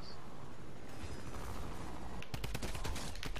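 Gunfire in a battle royale video game, with a rapid burst of close, loud shots in the last second over a continuous dense background of game noise.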